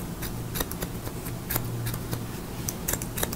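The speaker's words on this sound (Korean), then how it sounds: "우리 팀님 가위로 조금 숱을 좀 없애고" Thinning scissors snip at hair to remove bulk during a mohican cut in a hairdressing school, giving quick, light, irregular clicks close by over a soft steady background.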